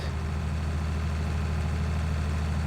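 A Fendt tractor engine runs in the Farming Simulator 19 video game, a steady low droning idle with a constant hum and no variation in pitch or loudness.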